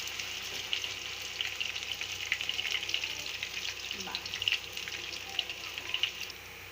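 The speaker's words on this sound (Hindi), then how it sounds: "लहसुन को बस हम थोड़ी देर इसमें भूनेंगे कि लहसुन की जो स्मेल है वो ख़त्म हो जाए।" Garlic frying in a pan for a stovetop pizza sauce, a steady close sizzle and crackle with faint stirring throughout, no voices.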